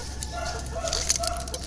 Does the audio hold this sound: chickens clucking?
yes